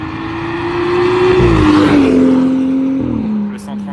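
BMW 135 accelerating hard at a car meet with runs and drifting, a loud close engine note climbing and shifting as it passes, with people talking over it.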